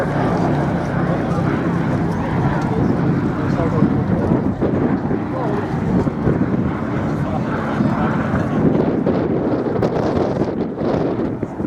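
B-17 Flying Fortress 'Sally B' making its final pass with smoke on at the IWM Duxford Summer Airshow, a loud, steady, roaring drone of piston engines mixed with wind buffeting the microphone.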